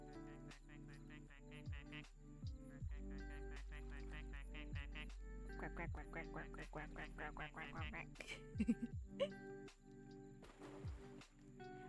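Repeated duck quack sound effects, a rapid series of nasal honks with short gaps, fairly loud over a steady low hum, with no speech.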